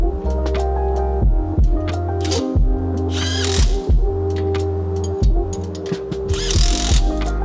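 A hand ratchet clicks in quick repeated bursts, close and loud, as strut bolts are snugged down on a Honda Civic Type R (FL5), with brief pauses between runs of pawl clicks.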